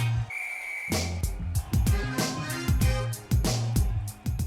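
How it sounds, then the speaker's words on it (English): A whistle shrills briefly, then rhythmic hip hop music with punchy drum hits starts and carries on loudly to the end. "on the sound of the whistle, let the games begin!"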